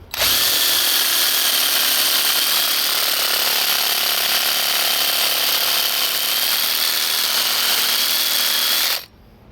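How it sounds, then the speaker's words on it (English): A power drill spins a Sporlan ZoomLock fitting gripped in channel locks, a loud continuous high whine with grinding, running steadily for about nine seconds before stopping abruptly. "fire up the drill"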